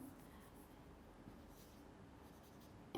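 Marker or chalk scratches steadily and faintly across a board during a Class 9 chemistry lesson, a continuous soft scraping that ends in a sudden louder knock.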